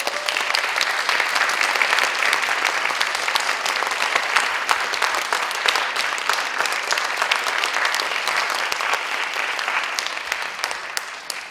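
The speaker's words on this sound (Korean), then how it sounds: "큰 박수로 환영해 주세요" A concert audience gives dense, sustained applause to welcome the composer Ko Young-shin at a new-music ensemble's annual concert, a loud, even wash of many hands clapping without a break.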